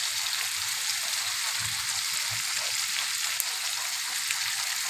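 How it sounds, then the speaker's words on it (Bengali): Ginger paste sautéing in a pan for a Bengali shrimp and fig curry makes a steady, dense hiss of sizzling oil throughout, with occasional soft low bumps. "এখন আমি দিয়ে দেবো আদা বাটা"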